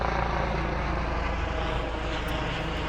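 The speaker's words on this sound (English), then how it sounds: "There's a helicopter." A helicopter passes overhead near an RV, its steady loud rotor and engine drone filling the whole stretch without pause.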